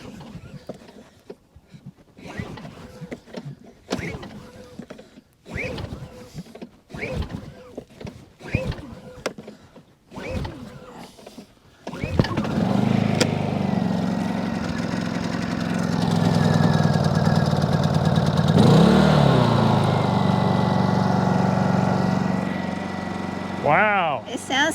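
A portable generator is pull-started with a few short cord tugs and handling knocks, then catches and runs at a steady, fairly quiet hum, close by and without speech.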